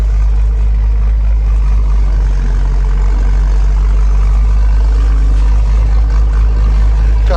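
A loud, close tractor engine, a New Holland T5 or MB Trac 1300 during haymaking, rumbling steadily at a constant low pitch, dominating the whole stretch without breaks.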